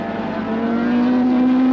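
A 1000cc racing motorcycle at a 1980 international race revs steadily and loudly, its engine tone holding high and sustained, slowly rising in pitch with no talk over it.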